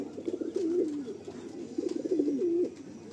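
A male Madrasi pigeon gives soft, throaty coos in two rolling bursts, close and fairly clear against a quiet background.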